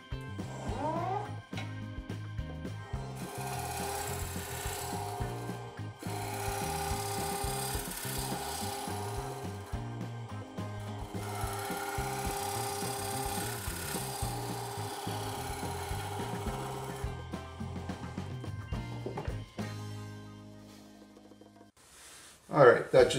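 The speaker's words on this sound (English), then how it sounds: "I'm just going to use my bowl gouge in a shear scraping mode to round this over" Steady scraping of a bowl gouge shear scraping a spinning maple platter on a lathe, a continuous rasping drone with a low motor hum, close by and sustained throughout.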